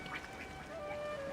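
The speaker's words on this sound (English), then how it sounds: "Also, this game has ducks" Ducks quacking in Genshin Impact, a few quick, nasal quacks over a soft background hum, close and fairly quiet.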